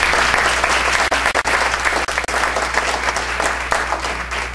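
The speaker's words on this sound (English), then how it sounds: "let's just a round of applause for all of them that shared" Loud, sustained applause from the crowd at a ward candidate forum, many hands clapping in a dense continuous wash with a few sharper individual claps standing out.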